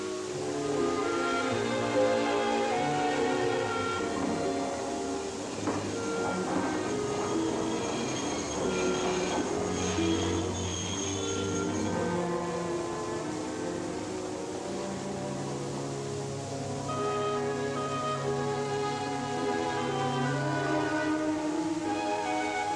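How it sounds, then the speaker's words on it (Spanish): Trams rumble steadily through the streets of Valencia in the early morning, a continuous close heavy rolling of wheels on rails with shifting tones, heard alone without voices. "Pasaban los tranvías repletos de madrugadores"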